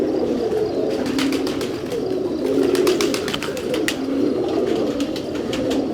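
Pigeons coo steadily and close by, a low murmuring drone layered with several birds, broken by occasional sharp chirps.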